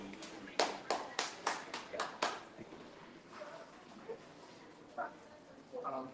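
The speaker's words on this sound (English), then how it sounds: "round of applause for your tutor, Mr. Wisdom" Brief round of applause for a tutor at a workforce training session, a few claps in quick bursts for about two seconds, then quiet with scattered voices and faint movement.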